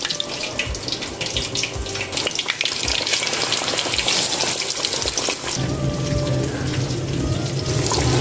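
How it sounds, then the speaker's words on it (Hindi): Fish pieces deep-fry in hot oil, giving a loud, continuous bubbling sizzle close by that keeps on steadily without a break, with a slight shift in texture partway through. "ये देखें यहाँ पर फिश हमारी ऑयल के अंदर बिल्कुल डिप है"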